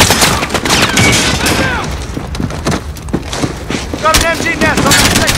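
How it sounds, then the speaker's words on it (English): Dense, close gunfire from Call of Duty: Modern Warfare, with rapid overlapping shots and booming impacts from a machine gun nest on a ship's second deck, continuing without pause while voices call out over the combat. "Got an MG nest on the second deck!"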